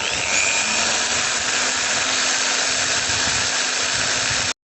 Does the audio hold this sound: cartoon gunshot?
no